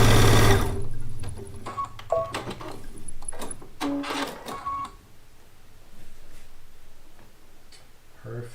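Sewing machine stitching quilt pieces together while completing a one-block-wonder quilt top, a close, steady mechanical whir with rapid ticking that starts and stops in short bursts, loudest at the start.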